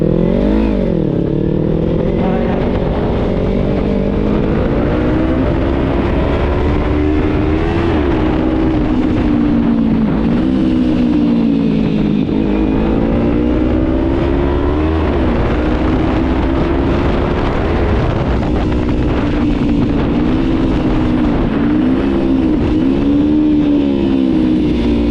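Kawasaki Z300 motorcycle engine droning steadily while riding, its pitch rising and falling with throttle changes, loud and continuous throughout with road and wind noise.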